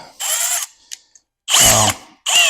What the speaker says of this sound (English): It uses a 19 millimeter socket, and it's just a regular household cordless drill.